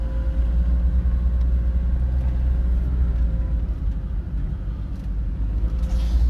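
A van engine rumbles steadily in second gear while descending a hill on a Lake District road, a continuous low drone heard from inside the cab with no talking.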